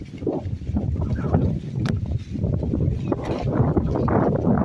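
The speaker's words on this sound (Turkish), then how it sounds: "Biraz rüzgar çıktı." Gusty wind buffeting the microphone with low rumbling roars and rustling, fluctuating loudly throughout.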